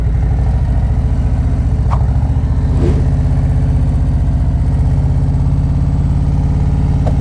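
A motorcycle engine runs steady and loud in first gear, a constant close mechanical drone with no voices.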